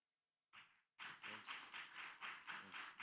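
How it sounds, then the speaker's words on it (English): Applause from the audience at a blockchain congress, a short burst at first and then steady, moderately loud clapping that keeps going with a rhythmic swell, heard faintly at a distance. "One more round of applause."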